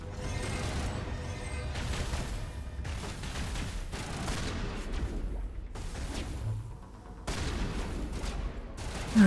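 Shotgun blasts and gunfire ring out repeatedly in the video game Mass Effect, arriving in bursts broken by short gaps over a busy, dense combat background.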